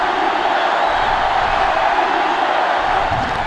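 Simulated stadium crowd roars steadily from a college football video game matchup, Clemson against Florida, a dense, continuous wash of cheering at constant loudness.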